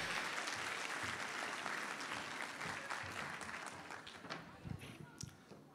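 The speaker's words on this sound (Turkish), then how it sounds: "Tekstil Tasarımı bölümüne kocaman bir alkış" A crowd at a university fashion show during Ankara Fashion Week gives sustained, dense applause for the textile design department, loud at first and gradually thinning toward the end.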